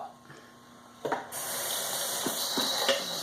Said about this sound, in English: This is the way I wash my vegetable. Okay, I have to wash it here.